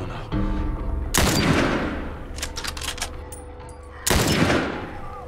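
Loud, close gunfire in The Last of Us Part I, with two sharp bursts of shots a few seconds apart and scattered smaller cracks between them, each followed by a fading echo.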